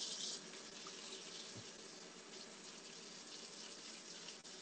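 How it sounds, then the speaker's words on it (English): Basmati rice is rinsed in a sieve under a running tap, with a steady hiss of flowing water throughout and a faint knock near the middle. "I'm just going to rinse this through some water."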